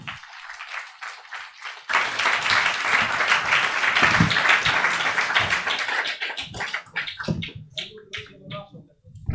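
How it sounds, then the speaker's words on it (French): Audience applause and cheering at a live YouTube evening show as guests Usul and Ostpolitik are welcomed, swelling loud after a quiet start, then thinning to scattered claps with voices and microphone noise near the end. "je vous demande d'applaudir comme il se doit Usul et Host Politique"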